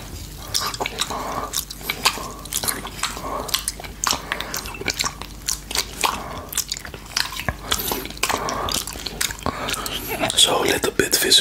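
Champagne being sipped and tasted close to the mic, with wet mouth sounds, small slurps and crisp clicks repeating throughout, with low murmuring in places.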